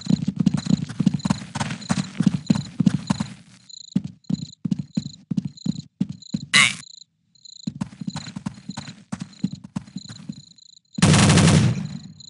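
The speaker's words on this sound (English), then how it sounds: "Doing some gunshots." Gunfire in the video game Counter-Strike: Condition Zero, heard as a few sharp bursts among rhythmic game footsteps and a constant insect-like ambience, with no voices.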